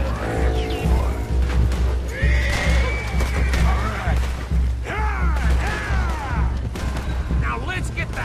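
Red Dead Redemption 2 escape scene: horses whinny loudly several times amid hoofbeats, distant gunshots and booms, with characters shouting over the chaos.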